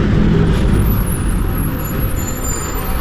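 A Mercedes city bus on a São Paulo street rumbles past close by, its engine loud and steady with a constant hiss of traffic noise and a high brake or air whine above it.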